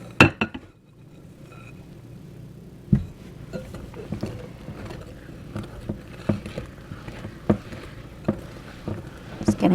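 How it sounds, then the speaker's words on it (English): A whisk scrapes and clicks through thick carrot muffin batter in a bowl, making a series of irregular, moderately close taps and scrapes over a quiet background. "It's getting a little thick here to whisk"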